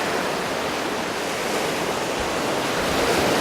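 Sea waves on the Crete coast wash in a continuous, loud, even roar of surf with no voices.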